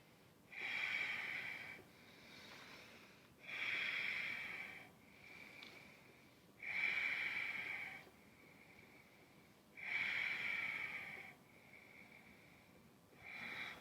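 Slow, deep yoga breathing in the Kurmasana forward bend: long rasping inhales and exhales alternate in an even cycle, close and fairly quiet, with no talk.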